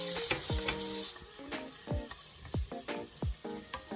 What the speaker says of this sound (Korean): 마늘이 크리스피해지면 새우와 오징어를 넣고 익혀줍니다